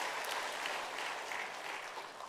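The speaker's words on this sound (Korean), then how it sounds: "우리 박수 한번 주세요." A church congregation at a Sunday worship service applauds the choir, a dense, even wash of many hands clapping that holds steady throughout and fades only slightly at the end.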